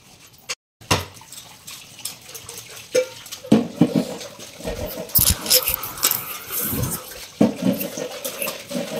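Dishes being washed by hand under a running kitchen tap, with water splashing, steel pots and cups clattering and scrubbing close by, in uneven bursts across the whole stretch.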